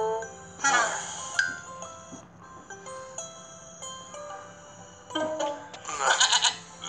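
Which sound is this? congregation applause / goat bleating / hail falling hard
goat bleating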